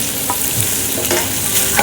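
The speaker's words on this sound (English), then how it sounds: "now we're gonna add turkey to the bacon and let it cook for a little bit" Turkey and bacon fry together in a hot pan, a loud steady sizzle and crackle with occasional stirring scrapes, heard up close with no talking.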